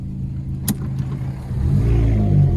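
A stripped-out, lightweight stage 3 Ford Fiesta ST runs close up, its engine droning steadily and then swelling into a louder, fuller accelerating roar with no talk over it.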